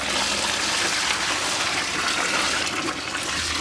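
Compost tea pours into a container as a steady, loud rush of splashing liquid, continuous and close, easing slightly toward the end.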